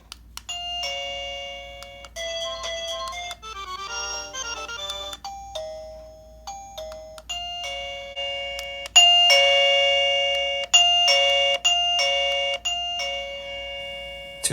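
Chime of a Mubview Bell J9 wireless doorbell ringing close and clear, a series of bright electronic melodies played one after another with short gaps, no talking.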